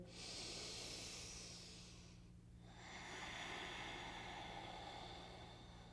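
Two long, airy breaths during a power yoga flow, each a soft hissing exhale with a brief pause between them. The breathing is faint and close, with no talking.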